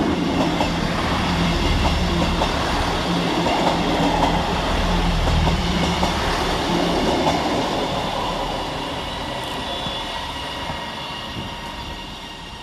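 Passenger trains, units 331001, 158841 and 158818, rumble through Cheadle Hulme railway station steadily with clickety-clack wheel noise, loud and continuous, easing off slightly toward the end.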